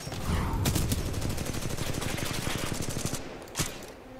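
Automatic-weapon fire in Titanfall 2, a dense, rapid stream of shots lasting around three seconds, loud and near, with a sharp single blast toward the end.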